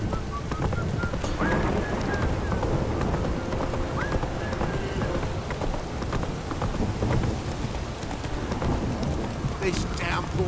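Roach, the horse in The Witcher 3, gallops with rhythmic hoofbeats through steady heavy rain and distant thunder, loud and continuous throughout.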